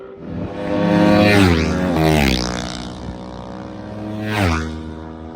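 Older-class racing motorcycles pass at speed on a road course at Ridge Motorsports Park, their engines rising and falling in pitch as they scream by near and loud, then another bike sweeps past a few seconds later.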